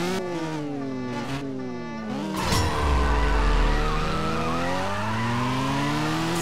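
A race car in the mobile racing game CSR 2 revs through sweeping gear shifts, with a tire skid and a low rumbling burst midway as engine tones climb and fall repeatedly.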